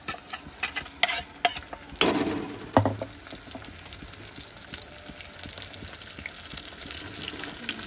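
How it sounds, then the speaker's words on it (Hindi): Ginger, tomato and onion paste drops into a hot pan for kadai paneer, setting off a burst of loud sizzling followed by clattering stirs and a continuing close hiss. "अभी मैं डाल देबो हमन अदरक टमाटर और प्याज के पेस्ट।"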